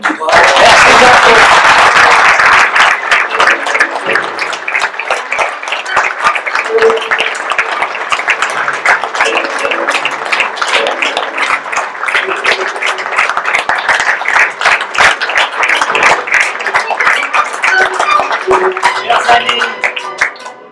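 An audience at a Guignol puppet show applauds loudly and steadily, with dense clapping that starts strong and continues throughout, alongside some crowd noise.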